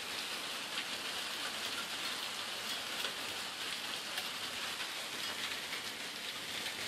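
Steady rain pours in a flooded Missouri street during a spring hailstorm, a dense even hiss of drops on water and pavement, fairly faint and continuous with no voices.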